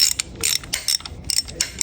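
Nut being taken off an engine part during a Dodge Charger R/T engine rebuild, heard as quick bursts of ratchet clicking in short close-up runs with brief pauses between them.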